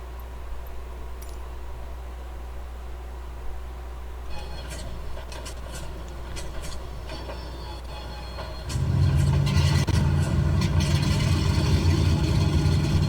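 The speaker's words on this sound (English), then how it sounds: "Wait a few seconds and then start the left engine." Left engine of a Lockheed Electra 10A starting in MSFS2020: steady low idle rumble, then clicking starter noise, and the radial engine catches with a louder, rough, sustained roar near the end.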